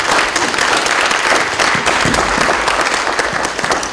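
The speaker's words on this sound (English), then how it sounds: "If we could give them a round of applause as well again." A full audience applauds at a university presidential speaker series event, loud, continuous dense clapping throughout with a faint crowd murmur and no speech on top.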